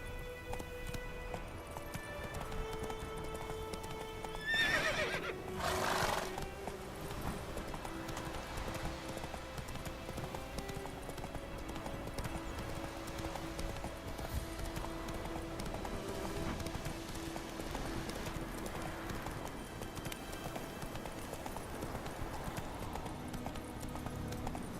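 Geralt's horse Roach galloping in The Witcher 3, a fast continuous rumble of hoofbeats under a dense, steady bed of game music and ambience, with a brief louder burst early on.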